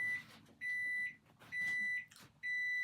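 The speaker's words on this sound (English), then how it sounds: "That's the microwave, not a bomb." A microwave oven beeps in a room, emitting four steady, shrill tones of about half a second each, evenly spaced with short gaps, moderately faint with no talking.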